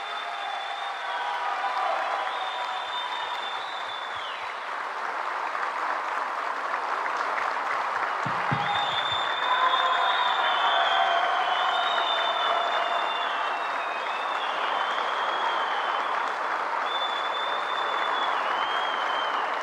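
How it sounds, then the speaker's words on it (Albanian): Sustained applause from an audience at a ceremony honouring a medal recipient, steady and fairly loud for about twenty seconds, with crowd murmur and a few brief shouts mixed in. "Dua një duartrokitje të fortë për Qazim Sejdinin."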